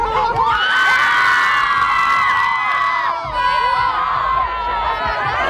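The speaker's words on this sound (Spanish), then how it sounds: "¡Ahora quiero un grito!" A crowd of fans at a Club Media Fest event screams loudly and continuously, high shrill voices layered into a dense, sustained roar with rising whoops, close and unbroken for several seconds.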